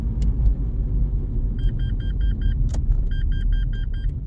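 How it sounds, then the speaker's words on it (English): A Toyota Corolla Verso with an MMT semi-automatic gearbox sounds its warning beeper: two bursts of rapid, evenly spaced high beeps over the low, steady rumble of the idling car. "It beeping too much, yeah?"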